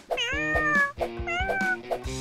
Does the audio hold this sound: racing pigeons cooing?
no